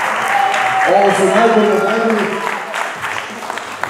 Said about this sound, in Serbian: Ajmo, jedan veliki aplauz za ove momke.